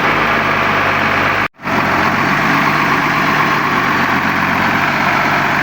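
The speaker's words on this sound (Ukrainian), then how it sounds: "Трактор поїхав і дай Бог буде працювати." A Case MX 270 tractor engine runs steadily with a low, rough diesel drone that cuts out for a split second and resumes, loud and close throughout, without any talking.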